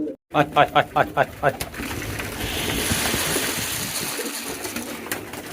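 Bombay pigeons coo in a rapid run of throaty pulses close to the microphone, then someone talks over a steady background hum.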